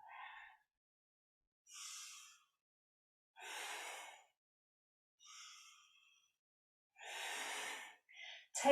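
Deep, forceful breaths during a kundalini yoga frog exercise come in five or six separate whooshing inhales and exhales, close and fairly soft, spaced by pauses of silence.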